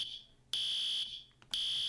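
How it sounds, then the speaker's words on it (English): A fire alarm in the Hypixel video game sounds in two loud, steady electronic tones, each about half a second long, separated by brief gaps. Faint background music runs underneath. "the fire alarm starts going off."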